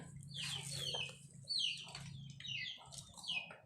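Chickens cluck faintly in the distance, with several short, high calls scattered over a low background hum.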